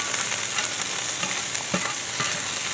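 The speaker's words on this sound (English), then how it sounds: "if you notice that garlic is popping, that tells me my oil is hot" Garlic frying and popping in hot oil while being stirred, a steady close sizzle with scraping stir strokes and a few sharper pops, no voices.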